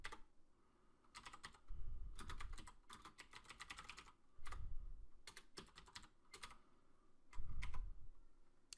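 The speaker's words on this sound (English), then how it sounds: "So we'll do that by typing MD5 sum." A command typed on a computer keyboard, bursts of quick close key clicks with short pauses between groups, faint and alone.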